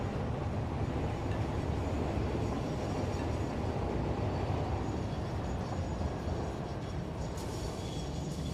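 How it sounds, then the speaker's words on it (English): Train passing in the video game Satisfactory, a steady loud rumble with rattling wagons rolling by continuously throughout, no voices. "We have to wait for this train."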